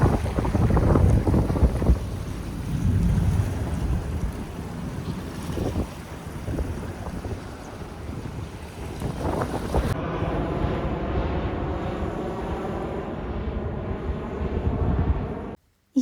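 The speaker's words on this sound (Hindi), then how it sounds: "इतनी खूबसूरत आवाज़ लहरों की" Sea waves wash against an Italian shoreline, a steady rushing surge heard alone and mixed with strong wind buffeting the microphone, ending abruptly.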